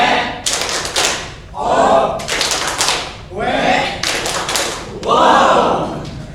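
Audience in an Indonesian teachers' gathering performing a rhythmic clap chant, bursts of sharp group claps separated by short pauses, with loud voices calling out between the bursts.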